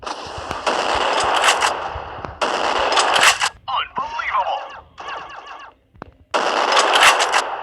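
Machine gun fire in the video game Crisis Action comes as several loud, sustained bursts separated by short gaps, with quieter game sounds and voices between the volleys.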